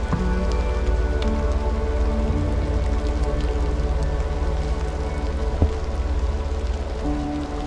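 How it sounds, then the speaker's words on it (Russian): Rain pours steadily outside an underground dugout near Chernobyl, a dense continuous patter of drops on surfaces at even loudness throughout, with no voices. "Дождь льет."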